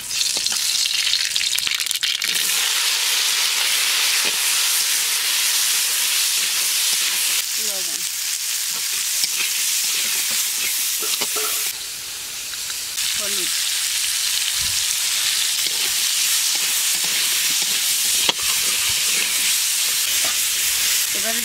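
White mustard seeds and dry chillies sizzle in hot oil with a steady, close hiss that dips briefly partway through, with a voice faintly in the background.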